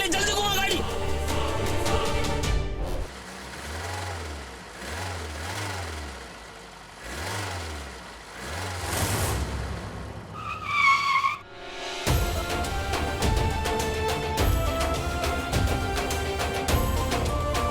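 A car making a fast U-turn, with loud tire skidding, engine revving and dramatic background music surging and cutting out across the scene.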